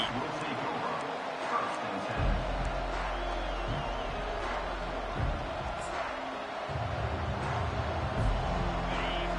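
A stadium crowd at a college football game keeps up a dense, continuous roar, swelling in surges, with a commentator talking over it.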